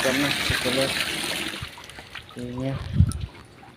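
Water poured from a bucket onto plants, a steady splashing and trickling that fades and returns, with voices talking over it.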